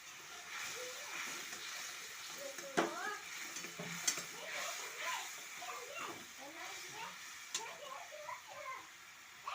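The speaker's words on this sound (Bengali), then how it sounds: "এবার ভালো করে নেড়ে চেড়ে নেব" Fish curry being stirred in a pan, with scraping and a soft sizzle under steady clatter from the spoon, close and continuous, and faint speech in the background.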